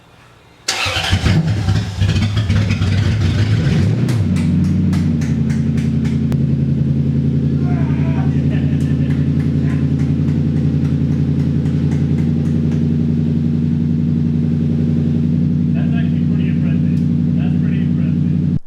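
A car engine with its mufflers removed cranks and fires, then settles into a loud, raw, steady idle that carries on throughout, close by, with voices heard near the start.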